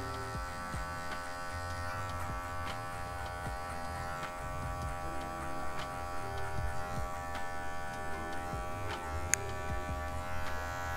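Electric hair clippers buzz steadily throughout, fading a V-shaped haircut with a half-low comb attachment, a continuous close drone with small shifts as the blade passes over the hair.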